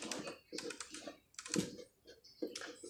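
Computer keyboard keys are pressed in quick, uneven clusters of clicks, close and fairly quiet, with short pauses between bursts.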